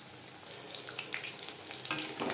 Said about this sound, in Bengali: উল্টে পাল্টে ক্রিস্পি করে ভেজে নেব।